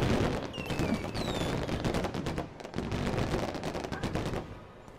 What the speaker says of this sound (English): Just from one firework.